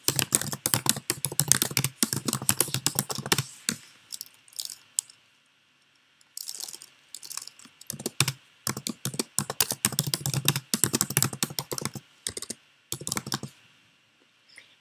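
Keys clatter on a computer keyboard as text is entered into a Google Sites page, coming in quick bursts with short pauses, close and fairly loud with no voices.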